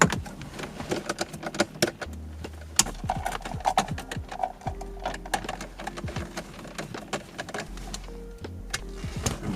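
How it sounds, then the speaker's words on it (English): Screws are driven by hand while a RAM VLine VL2 car radio is mounted in a dashboard: a steady stream of close mechanical clicks and ratcheting ticks with low rumbling underneath, no speech. "And then from there we're going to be putting in our 7mm screws."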